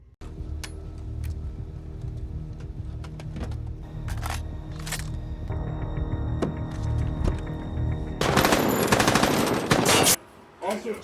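An M249 SAW machine gun fires in a video game, with scattered bursts over a dense background din, then a loud, sustained stretch of rapid fire near the end.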